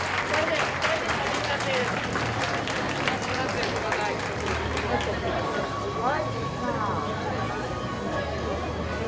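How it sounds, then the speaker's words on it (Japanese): An audience at a KROSS×OVER fighting event applauds both fighters after a draw decision, with sustained clapping mixed with crowd murmur and an announcer's voice over the top. "戦いを終えました両選手にぜひ大きな拍手をお願いいたします。"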